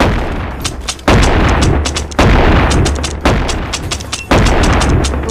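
Five loud, booming shotgun blasts from a video game with infinite ammo fire at a steady rhythm of roughly one per second, each followed by a short decaying tail.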